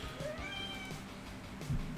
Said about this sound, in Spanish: escucharon a mi gato